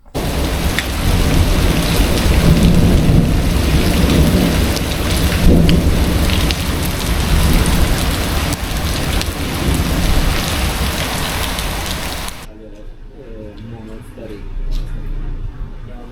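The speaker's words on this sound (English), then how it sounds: "as the thunder and lightning started." Heavy rain pounding down during a thunderstorm on a Mallorca mountain trail, a dense, loud roar with thunder rumbling in, which cuts abruptly to a quieter, softer patter near the end.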